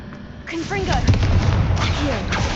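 Confringo blasting-curse explosions in the video game Hogwarts Legacy, a few sharp booming bursts while a voice talks over them near the start and again later.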